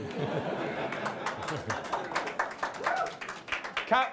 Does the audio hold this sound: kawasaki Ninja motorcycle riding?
no